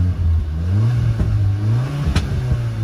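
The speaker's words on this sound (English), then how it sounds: "Give the car quick rev." A 2019 Hyundai Veloster Turbo engine revs up sharply from idle, rising in pitch and then settling back, with a brief exhaust crackle near the end, close and loud.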